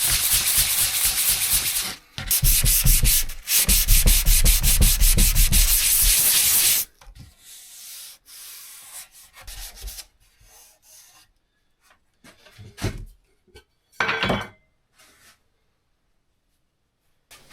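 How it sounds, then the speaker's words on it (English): Hand sanding the sharp edges of reclaimed pallet wood on a rustic laundry hamper: loud, steady scratchy rubbing strokes for several seconds, then quieter, sparser scuffs and short rubs. "then hand sanded any sharp edges"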